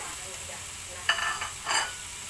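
Old oil crackles and hisses steadily in a pan as shallots are dropped in, with two brief louder bursts of sizzling and stirring rising over the constant frying.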